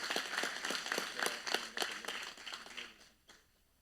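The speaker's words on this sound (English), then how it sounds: "So let's round of applause for Brandon Pinkerton" Scattered clapping from a football banquet audience honoring a player of the year, moderately distant and soft, with distinct individual claps that thin out and fade over a few seconds.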